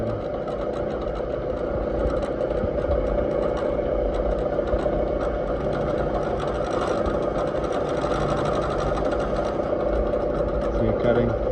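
Machine cutting spring-side valve guide bosses in 44x37.5 AC cylinder heads at relatively low RPM, a steady mechanical whir and chatter running throughout, with a voice speaking over it.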